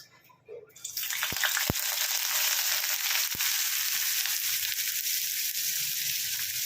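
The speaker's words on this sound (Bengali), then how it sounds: "প্রথমে তেল গরম হয়ে গেছে, এর মধ্যে আমি পেঁয়াজ কুচিটা দিয়ে দেবো।" Thinly sliced onions drop into hot oil and burst into a loud, sustained hiss of frying that holds steady for several seconds after a brief quiet start; no speech.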